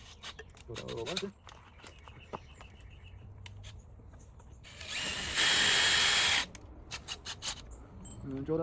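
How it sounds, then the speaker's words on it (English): A power drill whirs loudly for about a second in the middle, enlarging a hole while fitting canards to a BMW E92 M3, surrounded by clicking, ratcheting mechanical noises and handling sounds. "And then drill that a little larger."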